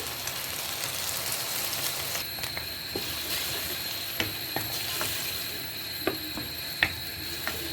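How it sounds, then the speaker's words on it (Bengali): Masoor lentils added to a hot pan and stirred, a steady frying hiss broken by sharp scrapes and taps of the spatula against the pan, close, with no speech. "আমি মসুর ডাল দিয়ে দিচ্ছি"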